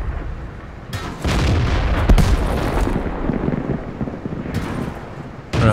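Tank gun firing in World of Tanks, a heavy booming blast followed by a long rumbling roar and a second thump near the end, loud and close with no talking.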